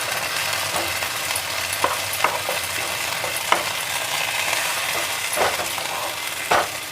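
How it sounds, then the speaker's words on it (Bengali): Lentil paste for masoor dal dhoka stirred as it fries in oil in a wok, a steady sizzle broken by scraping strokes of the spatula and occasional clinks, close and continuous. "ভালো করে নাড়িয়ে নেব।"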